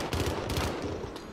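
Gunfire in Call of Duty Modern Warfare, a quick burst of rapid shots in a short rattling cluster, fairly loud and close.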